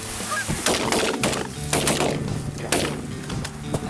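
Canada geese honk over Maryland farmland near Chestertown, a flock sounding several loud overlapping calls close by with a few sharp bursts between them.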